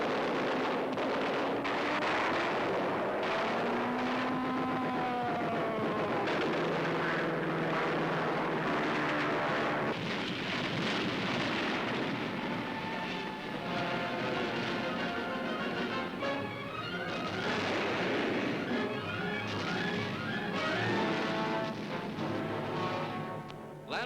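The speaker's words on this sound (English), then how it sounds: "Strafing fighters add finishing touches to the intensive combined bombardment." Strafing fighter aircraft roar overhead during a heavy combined bombardment of Corregidor in 1945, with loud sweeping engine drones rising and falling continuously amid rumbling blasts and wind noise.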